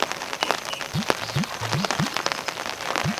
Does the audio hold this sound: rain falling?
yes